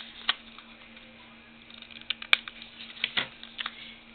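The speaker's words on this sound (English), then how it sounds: "I'm going to take my scissors and I'm going to" Scissors snip paper for a small card-craft purse project, a few sharp, quiet clicks scattered over a hushed room with a faint steady hum.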